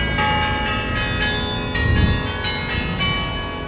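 Church bells ringing from a bell tower as part of the Sonic Cascades sound sculpture in an urban San Jose setting, several loud overlapping metallic strikes with long shimmering sustain, close and continuous.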